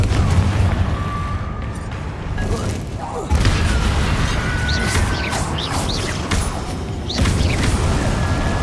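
Confringo fire spell explosions from the video game Hogwarts Legacy, several booming blasts and crashes over a rumbling low roar of combat, with a voice calling out between impacts.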